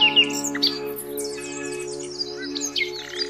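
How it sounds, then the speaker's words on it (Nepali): Migratory birds in the Koshi Tappu wildlife reserve in winter give a busy mix of chirps, tweets and squawks, several calls overlapping at moderate distance over a low steady hum. "जाडो अवधिभर बसाइ सरेर आएका चराहरू आरक्षमा रमाउँछन्।"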